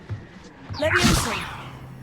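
The Levioso levitation spell from Hogwarts Legacy is cast with a swelling magical whoosh and shimmering, swirling tones that rise, peak and fade over roughly a second against low game ambience.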